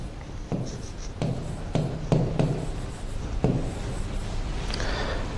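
A pen taps and strokes across an interactive screen, giving a few short, light contacts and scratches over a soft background hiss.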